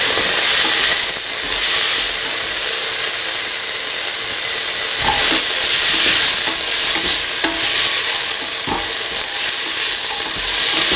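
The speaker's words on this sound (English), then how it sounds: "Mixing the potatoes." Potatoes and peas get stirred into a stew mixture in a hot pan, a steady loud sizzle and hiss with scraping spoon strokes and occasional clunks against the pan.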